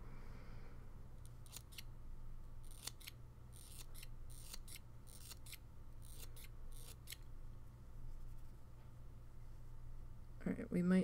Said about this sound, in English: My squeaky ass scissors.